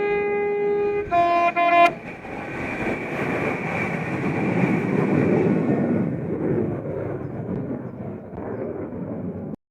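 A passenger train, 197119, rumbles past steadily on the North Wales Coast Line at Carreg Iago after a brief two-tone horn at the start, the heavy rolling noise filling the scene for several seconds.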